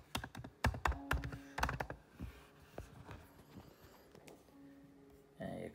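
Typing on a Mac keyboard while entering a Wi-Fi password on an Apple PowerBook, a quick run of close, crisp key taps that fades into softer, sparse clicks and then a final thunk.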